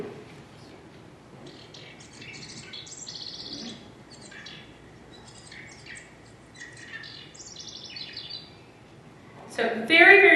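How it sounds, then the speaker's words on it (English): House wren singing a rapid, intricate series of bubbling chirps and trills, fairly faint at a distance, followed by a louder burst near the end. "And then the house wrens, let me play this down."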